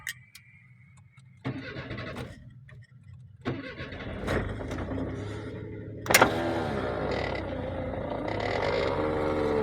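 A Suzuki Every van starts up from inside the cabin: clicks and a door thump, a cranking burst, then the small engine catches and settles into a steady idle hum, fairly close.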